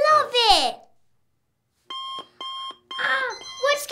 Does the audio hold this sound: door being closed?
no